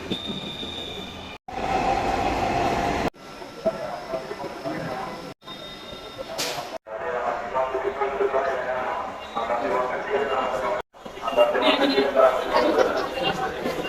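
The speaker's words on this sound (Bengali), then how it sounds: "এখন ট্রেন আবার ছেড়ে দিবে মতিঝিলের উদ্দেশ্যে" Dhaka metro train pulling out of Secretariat station toward Motijheel: a steady rolling rumble with rising wheel squeal and rail noise, close by, under constant crowd chatter, broken by a few brief gaps.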